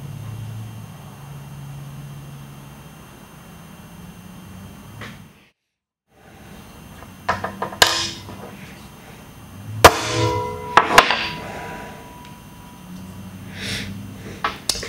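Hammer blows on a center punch marking a spot on a workpiece for drilling, heard as several sharp metallic taps spaced a second or two apart after a brief silence, close and fairly loud over a low room hum.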